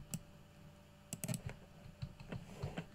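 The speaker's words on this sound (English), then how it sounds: "just click, keep clicking" Quiet, irregular clicks come from a computer mouse tracing points in a game engine's level editor, some single and some in quick clusters, close by and with no talk.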